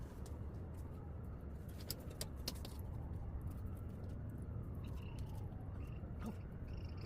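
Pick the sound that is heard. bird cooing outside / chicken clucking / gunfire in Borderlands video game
bird cooing outside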